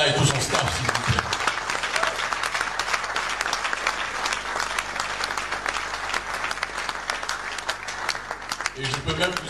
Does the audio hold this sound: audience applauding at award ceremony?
yes